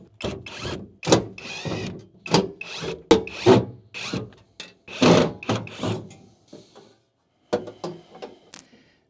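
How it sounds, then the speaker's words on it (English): Screwdriver prying a trim panel off a Toyota Hilux tailgate: a close series of plastic clicks, knocks and rubbing thumps with short pauses between bursts. "You're gonna need a screwdriver, and we're just gonna take this little panel out here."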